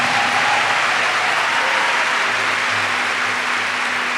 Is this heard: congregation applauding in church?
yes